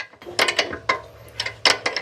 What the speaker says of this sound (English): I got a ratchet wrench here for that